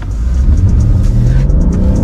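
A BMW 7 Series launches hard from a standstill using launch control, a deep, loud engine rumble rising as it pulls away, close up from inside the car.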